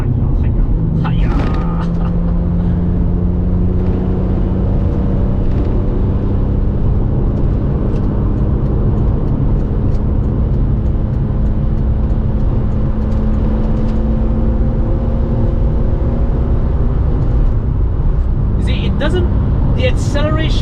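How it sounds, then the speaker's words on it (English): A BMW M3 E46 Convertible's inline-six engine pulls hard through a long, smooth acceleration, its tone climbing steadily for many seconds before easing off, with brief voices near the start and end. "Really is the BMW inline 6 at its very, very, very best."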